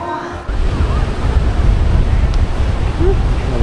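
Strong wind buffets the microphone at Folly Beach in Charleston, South Carolina, with a steady roar of surf underneath; the gusty rumble starts abruptly after a brief quieter moment and stays loud throughout.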